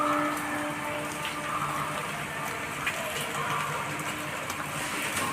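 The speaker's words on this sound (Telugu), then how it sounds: "మా ఊళ్ళో వర్షం అయితే బాగా పడుతుందన్నమాట." Heavy morning rain pours down steadily in a village, a dense, even hiss that holds constant throughout without a break.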